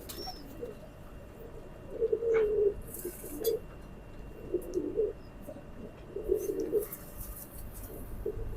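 Soft, low cooing of a Teddy pigeon repeats a few times against steady background noise, fairly distant and quiet.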